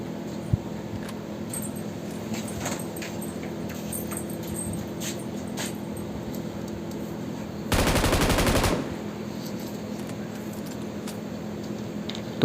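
In a PUBG Mobile match, an automatic weapon fires one rapid burst lasting about a second at a car, above steady in-game ambience.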